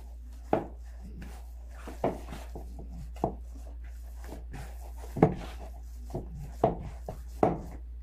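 Chicken breast kofta mixture kneaded by hand in a home kitchen, heard as soft, irregular thuds and squishes of the mixture being pressed and slapped, close and fairly quiet over a low steady hum, with no talk.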